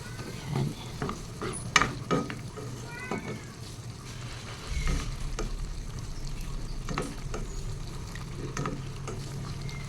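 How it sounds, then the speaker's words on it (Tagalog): Beaten egg being stirred into bitter gourd in a sizzling pan, with scraping and clinking of the utensil and frying crackle that swells halfway through, while a person talks intermittently over it. "i-mix lang natin ang ating binating itlog sa ating ampalaya"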